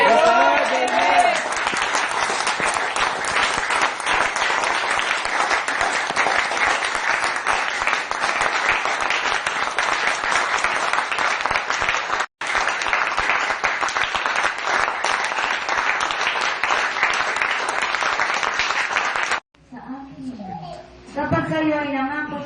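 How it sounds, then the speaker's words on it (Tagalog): Loud, sustained applause from a church congregation at a worship service, a dense roar of clapping that goes on unbroken for many seconds, briefly dips, then gives way to a speaking voice at the end. "isang malakas na palakpak na parang hindi na matapos-tapos para sa Diyos"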